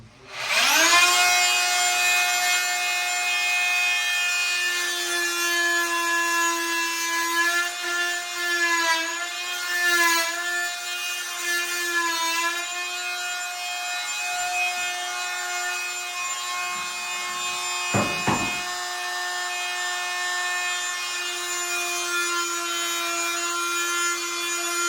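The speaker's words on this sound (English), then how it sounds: "this right here is called a fine tool, F-E-I-N. It's a German-made tool." A German-made Fein oscillating multi-tool cuts through wooden window trim on a log home, giving a loud, sustained high-pitched buzzing whine that wavers slightly as the blade bites, steady for about twenty-five seconds.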